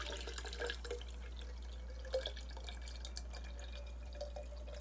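Coffee poured and dripping onto paper for dyeing, with small irregular drips and splashes of liquid over a steady low background, fairly faint and without talk.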